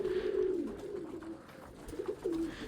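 Pigeons coo softly nearby in a few low, rolling calls with short pauses between them, no talking.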